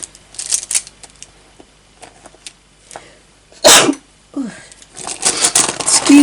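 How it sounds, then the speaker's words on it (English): A single loud sneeze bursts out near the middle, with soft rustling and light handling noises before it and more shuffling right after. "did not mean to sneeze, but it happens."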